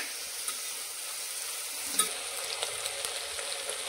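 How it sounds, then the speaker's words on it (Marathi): Sliced onions frying in oil in a pan for chicken biryani, a steady close sizzle with a few light clinks of a spoon stirring, no voices. "जरा कांदा असा गुलाबीसर परतून घ्यायचा।"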